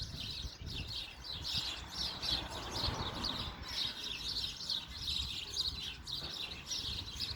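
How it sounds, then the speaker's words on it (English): A mother bird and her chicks chirp from a nest hole in a tree, steady high-pitched tweets and calls repeating throughout, fairly close over soft outdoor background noise. "Look, there's a mama bird."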